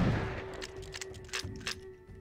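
Sawed-off shotgun blasts in the western shooter game Outlaws, a few quick booming shots in succession over a sustained background tone.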